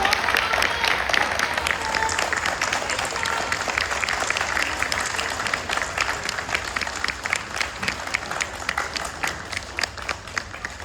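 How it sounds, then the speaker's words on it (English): School assembly audience in India gives sustained applause after a children's performance, with continuous clapping and some crowd murmur throughout. "Big round of applause again for them."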